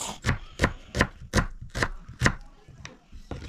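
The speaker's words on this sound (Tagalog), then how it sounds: "Slice tayo ng sibuyas mga ka-channel para sa ating sinigang." A knife slices onions on a cutting board for sinigang, making steady, evenly spaced chops that are close and distinct, with a quieter patch of background noise under them.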